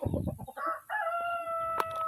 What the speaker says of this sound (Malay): Ada lagi ayam-ayam yang belum bertelur.